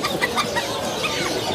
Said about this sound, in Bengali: এটা ভাই মুরগি ভাই